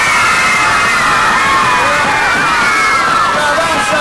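A large indoor pavilion crowd at a Matlachin beauty pageant final roars continuously, with cheering and whoops that sound like sustained applause filling the hall, loud and close throughout.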